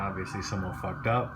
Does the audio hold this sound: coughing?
no